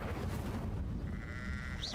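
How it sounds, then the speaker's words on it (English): A sheep in the Hogwarts Legacy video game bleats loudly and nearby over a steady low game background rumble, with a brief rising magical whistle near the end. "What the flip was that? Sheep."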